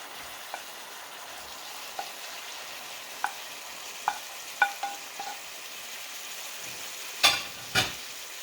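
Frozen ampalaya bitter melon stir-fries in a pan with sirloin beef, a soft, steady sizzle broken by scattered pops and crackles that grow sharper and louder toward the end, with no talking.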